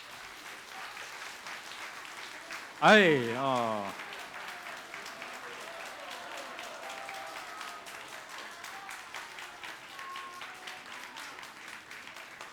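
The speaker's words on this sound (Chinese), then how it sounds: "转过来，我们再次拍手哈！" A congregation claps steadily for several seconds, a brief exclamation from a voice rising above the rhythmic patter partway through.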